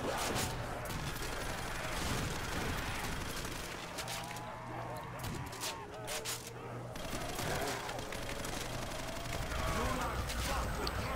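Shotgun blasts in a Custom Zombies map, heavy repeated shots amid constant chaotic game noise and zombie sounds, with a player talking over the action.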